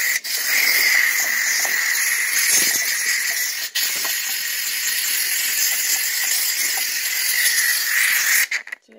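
A McCulloch 1385 steam cleaner hisses steadily and loudly up close, a continuous jet of steam with a couple of brief breaks where the flow cuts off.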